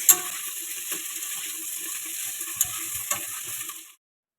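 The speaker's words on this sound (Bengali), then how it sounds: "ওদিকে ফুলকপি আলু মাছ দিয়ে ভাজাটা হতে লাগুক" Cauliflower, potato and fish fry in a pan with a steady, close sizzle, broken by a few sharp spatters and stirring clicks, with no talking, before the sound cuts off abruptly near the end.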